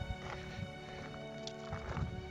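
Horse in the Red Dead Redemption video game whinnies and its hooves clop steadily, the neigh rising clearly near the start and again toward the end, close and fairly loud with no talk.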